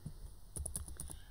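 Keys on a computer keyboard tapped out in a quick burst of about eight close, crisp clicks while entering a Minecraft server address, over a faint steady background hum.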